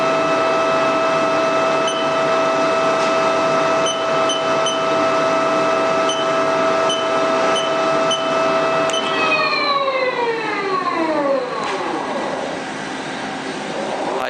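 A Haas TL3B big bore lathe runs at 200 RPM with a loud, steady tonal whine, then the pitch sweeps downward as the spindle slows and winds down toward the end.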